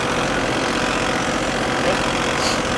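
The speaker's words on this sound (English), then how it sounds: "Turn it down and let it idle down." The engine of a trailer-mounted cold-water sewer jetter runs with a loud, steady, close rumble as it idles down, the drone unbroken throughout.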